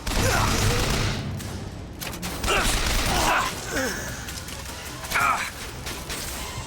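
Gunfire rattles in the mech combat game Armored Core VI, bursts of rapid firing and mechanical clanks that come and go, mixed with shouting voices.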